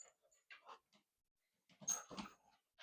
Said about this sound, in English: Duke is also a really good dog.